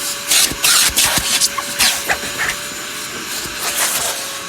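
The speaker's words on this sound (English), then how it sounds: "And then we vacuum the seats," A vacuum cleaner works over the seats of a car during an outdoor car wash on a sunny day, its steady suction hiss surging and dipping in close, uneven bursts as the nozzle moves.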